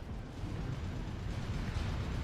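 A missile launch in Armored Core VI roars as a steady, dense low rumbling blast that swells slightly over two seconds, fairly faint and without speech.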